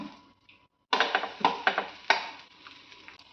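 A butter-fried eggy bread burger is flipped in a pan, giving a short sequence of sharp metallic clinks and scrapes from a spatula against the pan. The sounds are close, come in a quick irregular cluster, and end over a faint sizzle.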